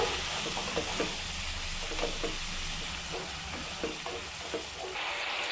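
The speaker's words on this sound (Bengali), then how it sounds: "সেই সসটা দিয়ে দিলাম আবারও আমি কিছুক্ষণ নাড়াচাড়া করে নেব" Sauce for egg Manchurian being stirred in a frying pan: a steady sizzle and hiss with soft, irregular scrapes of the spatula scattered throughout, fairly close and quiet.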